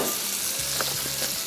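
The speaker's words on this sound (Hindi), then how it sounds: "ये सारी चीज़ें शामिल कर दी और इसके बाद सिंपली इसको थोड़ा सा किया फ्राई" Spices and tomatoes fry in a pan with a close, steady sizzle, while a utensil scrapes and stirs in a few short strokes underneath; no one speaks.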